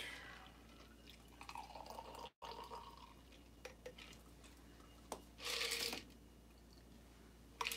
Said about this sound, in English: Strain into your champagne flute.